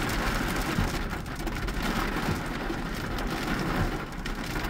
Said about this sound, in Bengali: ঝুমঝুম ঝুমঝুম বৃষ্টি চলতেছে।